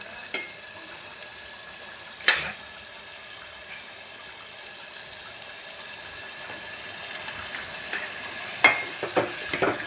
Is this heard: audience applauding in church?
no